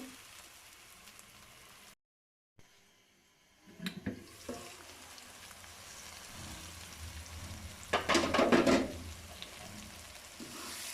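Water splashes into a pan of fried onion-tomato masala for an aloo anday salan, giving a brief loud burst of hissing and bubbling after a quiet pause, then settling into a softer simmer.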